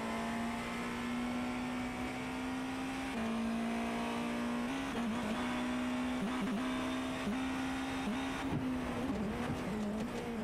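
Onboard sound of a Porsche race car during an endurance race at Sao Paulo, a steady high engine note held near the limit, then dipping and wavering as the car tops out and brakes for a turn.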